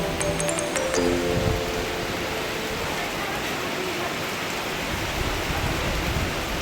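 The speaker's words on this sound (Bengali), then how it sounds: "আর ভালোই বৃষ্টি হচ্ছে" Steady rain pours down in a continuous broad hiss, with a few brief tones near the start.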